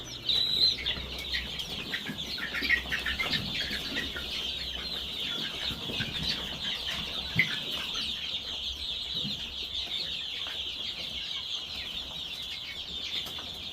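Brahma chicks and chickens kept in a warm indoor room cluck and cheep continuously, a dense, steady chorus of high peeping over lower clucks, close and moderately loud.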